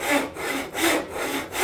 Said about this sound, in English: I will now saw the shoulder first.